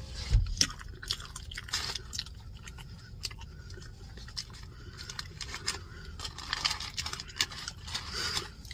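Someone eating onion, with wet, irregular chewing and crunching close to the mic and scattered short bites and squishes throughout, no talking.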